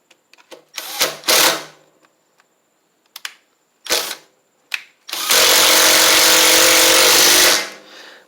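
Cordless impact tool works on bolts of a Columbia lawn tractor with a Powermore engine: several short loud bursts and clicks, then a sustained whirring run of about two seconds that winds down, close by.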